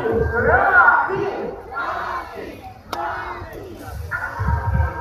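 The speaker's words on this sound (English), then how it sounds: "Come on, girls. Let's hear for Sassy" Crowd of children cheering and shouting at an event, a loud, rough wave of voices that swells, dips briefly, then rises again.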